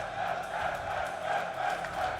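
A large audience at the COE 2023 1v1 final event roars and cheers continuously. The loud, steady crowd noise swells slightly and fills the whole stretch.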